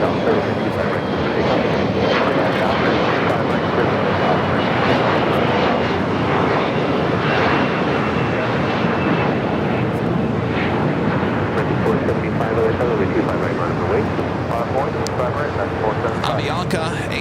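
Jet aircraft at Los Angeles LAX airport, pushing back from Terminal 7, a steady loud broadband engine roar filling the whole stretch, with a voice talking over it throughout.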